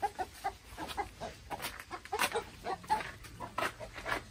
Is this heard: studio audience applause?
no